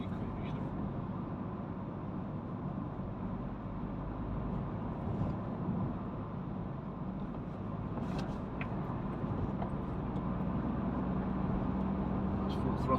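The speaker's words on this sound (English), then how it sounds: "That's full throttle and fourth." A Hyundai i car engine pulls at full throttle in fourth gear, a steady broadband drone heard from inside the cabin with a few light clicks and knocks over it.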